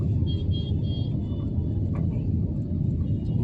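A car drives through dense Pune city traffic, giving a steady low road rumble and engine drone throughout, with faint traffic noise in the background and no talking.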